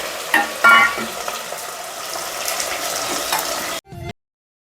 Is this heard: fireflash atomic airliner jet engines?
no